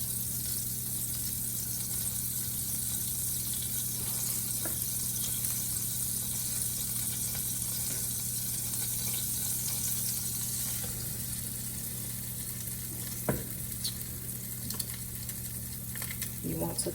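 French toast, bread dipped to coat both sides, frying in a pan with a continuous close sizzle and hiss that holds steady throughout, with no talk over it.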